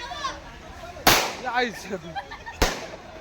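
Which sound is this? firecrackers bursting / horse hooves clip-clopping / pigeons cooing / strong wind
firecrackers bursting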